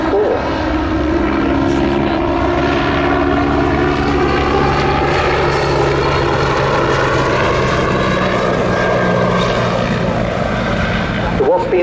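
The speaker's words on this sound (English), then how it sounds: "Being flown for you today by Steve Daniels, who joined the Royal Navy" A vintage Royal Navy aircraft, once used for casualty evacuation, flying a display at the Southport Airshow 2024: a loud, steady engine and rotor drone held throughout at close range, with an announcer talking over it.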